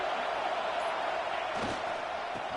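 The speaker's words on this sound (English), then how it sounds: "Listen to the crowd energy here in the early going." Stadium crowd noise from the football video game Madden 26 forms a steady, dense roar with a faint hum running underneath, occasional thuds breaking through, and no clear talking.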